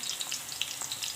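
Chicken kebabs fry in a pan, giving a soft steady sizzle with light crackling pops, close up and fairly quiet.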